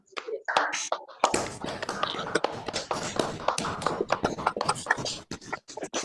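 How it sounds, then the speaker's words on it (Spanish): Scattered clapping from participants unmuting at the close of a Zoom talk on the post-pandemic economy, uneven and overlapping across several connections, with voices murmuring between the claps. "cerramos la charla con un aplauso para todos, para Miguel y para todos"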